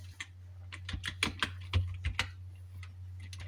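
Hindi words typed on a computer keyboard, a quick run of close, crisp key clicks in an uneven rhythm over a steady low hum.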